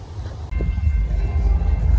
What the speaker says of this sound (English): This is the train decorated with Christmas light up to there.